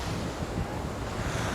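Ocean surf at Curlies Beach, Goa, at night: a brief, steady wash of breaking waves mixed with buffeting wind across the microphone, moderately quiet and close.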